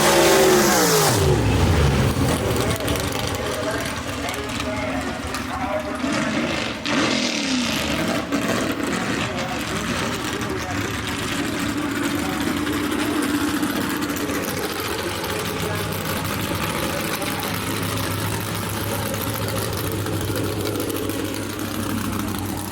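Gasser drag cars, including a 1958 Morris Minor called the Little Varmint, race at Brainerd Motorsports Park, with loud, continuous engine roar and revving that holds steady throughout and a brief dip partway through.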